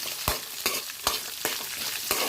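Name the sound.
cumin and coriander seeds sautéing in a pan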